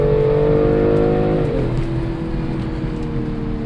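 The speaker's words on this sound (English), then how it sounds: "DSC off, so I can't use launch control, but I'll do the same boosted launch." A BMW M340i xDrive launches hard in the rain with traction control off, its engine roaring loud and steady through the gears, the revs climbing and then dropping at a shift partway through.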